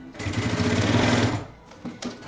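A sewing machine runs a fast, steady stitching burst along a backpack seam for over a second, then stops; two short bursts follow. The sound is close and loud, with no talking.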